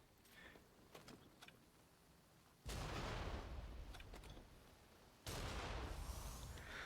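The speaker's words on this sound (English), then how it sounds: "Then I think I can just take these guys out with cannons." Two heavy cannon blasts in Nioh 2 land a few seconds apart, each a loud booming burst with a long rumbling tail, following a quieter stretch of faint game effects.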